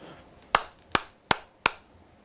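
Four sharp hand claps spaced evenly about a third of a second apart, each ringing briefly down a long hall with a quick echo tail, crisp and fairly close with no talking.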